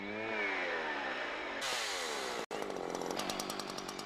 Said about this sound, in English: you're sawing with the pulling chain